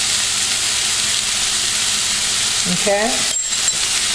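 Seasoned peppers and onions with salt and black pepper sizzle steadily in a hot pan, a loud continuous frying hiss throughout, with a brief short spoken word near the end.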